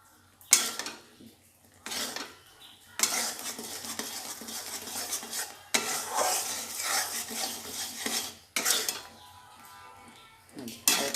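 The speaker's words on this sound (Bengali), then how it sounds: "এবার সুন্দর করে গুড়টাকে জাল দিয়ে নেব একটু যতক্ষণ একটু আঠা আঠা পর্যন্ত না হবে" A spoon scrapes and stirs jaggery syrup with crushed cardamom heating in a pan, in repeated bursts of close clattering and scraping separated by short quieter pauses, with faint sizzling underneath.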